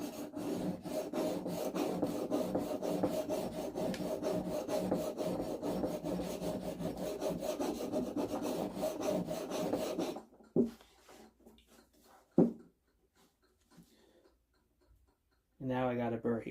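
Steel chisel rubbed back and forth on a sharpening surface in steady, rhythmic, close strokes for about ten seconds, then a few isolated scrapes and a brief final rub.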